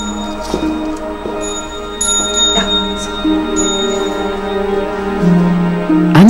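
A hand bell rings repeatedly on Christmas Eve in Lusatia, Germany, with bright, sustained metallic tones, several strikes overlapping and ringing out, fairly loud against a low steady hum.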